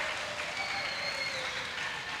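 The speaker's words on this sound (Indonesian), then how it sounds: "kasih tepuk tangan yang meriah untuk menyemangati mereka" Audience applause at a school graduation ceremony, MIN 2 Madiun's Haflah Akhirussanah: a steady, sustained wash of many hands clapping at moderate distance, with no voices over it.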